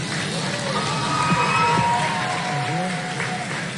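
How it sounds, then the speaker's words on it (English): An audience applauding, a dense wash of clapping with some cheering mixed in, steady throughout. "Why are they clapping?"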